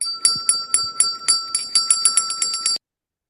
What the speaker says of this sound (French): lorsque on joue le son de la cloche, on va entendre ce son-là.